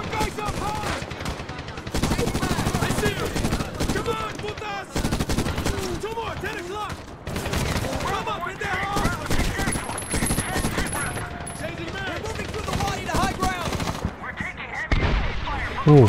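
Machine gun fire in Medal of Honor 2010 rattles in long, dense bursts through a desert battle, loud and close with brief pauses, mixed with other gunfire and shouting voices.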